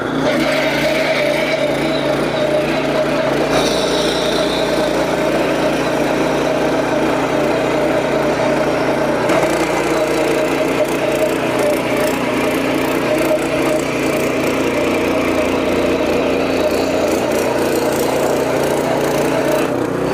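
A power tiller with rotavator running in first gear, its engine droning loudly and steadily from start to finish, a rough, continuous mechanical rumble with no voices.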